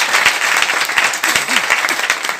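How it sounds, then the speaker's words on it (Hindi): An audience at a direct-selling business seminar claps loudly and continuously in a thick, close wash of applause, with a few sharper individual claps and a faint voice underneath. "ताली बजा दीजिए।"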